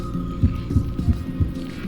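A heartbeat in the Honkai: Star Rail video game, with four deep, evenly spaced thumps pulsing over a low sustained hum.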